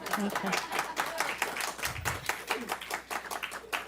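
A church congregation at a Sunday service claps in scattered, sparse fashion, many hands tapping irregularly at moderate distance across the room for a few seconds.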